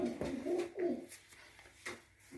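Tumbler pigeons coo close by in several soft, rolling, throaty calls, with a few quieter coos trailing off toward the end.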